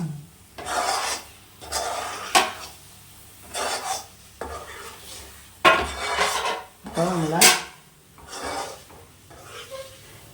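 A spoon scrapes through thick jackfruit varatti in a metal pan in separate rasping bursts about a second apart, close and loud, with a faint voice now and then between strokes.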